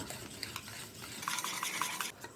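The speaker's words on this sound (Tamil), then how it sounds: "இப்போ இதை நம்ம மிக்ஸ் பண்ணிக்கலாம்" A spoon stirs flour and baking powder batter in a bowl for a vanilla pancake cake. The scraping and swishing is soft and close, and it quickens into brisk beating near the end. No voices are heard.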